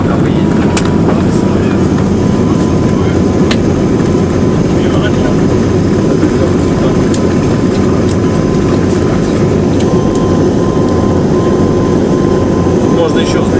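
Piston propeller engines of a Li-2 airliner during the landing roll at Schönefeld, heard from inside the passenger cabin as a constant loud low rumbling drone, with faint voices beneath it.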